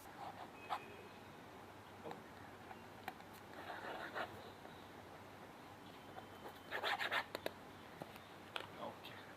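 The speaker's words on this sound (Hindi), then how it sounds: "पहले 3 बार अपना ऑटोग्राफ दे देता हूँ, फिर आपको चाहिए तो नाम भी लिख लूंगा" A pen scratches out an autograph signature on paper in soft, quiet strokes with brief pauses between them, while people talk faintly.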